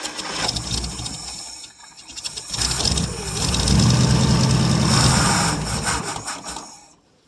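A 1959 International B120 4x4 truck being cold started after about five years idle: the starter cranks in rough grinding bursts with a pause between attempts, then a louder, longer stretch of cranking that fades out without catching.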